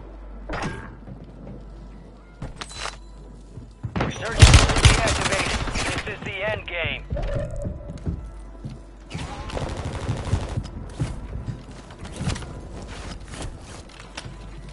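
Sustained volleys of video game gunfire on Rebirth Island, scattered single shots giving way to dense, loud automatic bursts in the middle and later stretches, with occasional game sounds layered between.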